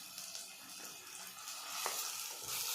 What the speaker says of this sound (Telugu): కొద్దిగా అల్లం తెల్లగడ్డ పేస్ట్ వేసుకున్నాను.